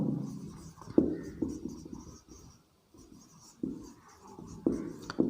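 Chalk or marker scratches and taps on a board as a teacher writes out a chemistry reaction, intermittent strokes in short bursts with pauses between them, close and fairly quiet.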